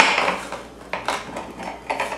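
Knife chopping an onion on a cutting board, several quick sharp knocks in irregular bursts against a soft background rustle, close and fairly clear with no talk.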